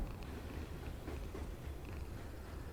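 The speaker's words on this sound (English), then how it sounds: "Am I hearing purring?" Soft, steady purring of a cat in the video game Camp Nyet-mare: Summer of '58 rumbles faintly and continuously under a low background hum, with no voices.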